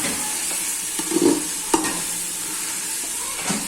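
Sautéed masala fries in oil and is stirred by hand, a close sizzle with a few scraping spoon strokes and one sharp clack against the pan, no voices.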